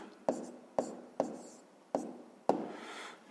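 Numbers written by hand, likely pen or chalk strokes: five sharp taps, each with a short scratchy trail, come at uneven intervals, close and clear, with no talk over them.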